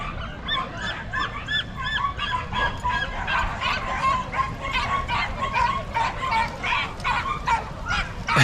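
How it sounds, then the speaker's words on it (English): Many dogs bark excitedly and repeatedly at the start of a large parkrun, overlapping yaps and barks over a crowd murmur outdoors. "The dogs are clearly more excited than the humans"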